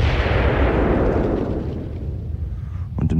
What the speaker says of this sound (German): zerriss ein gigantischer, ohrenbetäubender Knall die Stille des Lagers